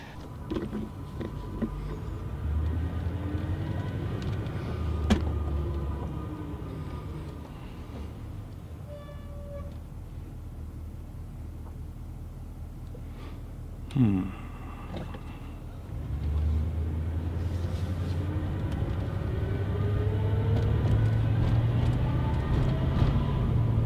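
Chevy Express 2500 conversion van with a Vortec engine driving, a steady low engine and road drone that swells and dips as it accelerates and shifts, heard from inside the cabin, with a brief bump midway and no talking.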